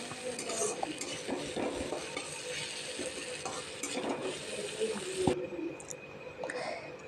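Finely sliced onions fry gently in oil over medium heat while a spoon stirs them, a soft steady sizzle with scraping and clinks of utensil against the pan, quiet and close.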